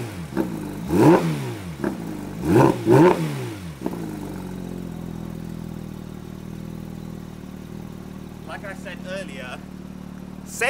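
Porsche GT3 RS 4-liter flat-six engine with stock exhaust, revved in three sharp bursts close by, then settling into a steady idle, with a brief higher blip near the end.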